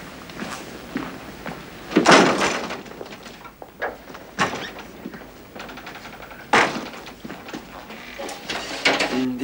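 A heavy door in a school is handled in a German-dubbed scene from The Breakfast Club, giving several loud thumps and rattles with scraping and footsteps between them.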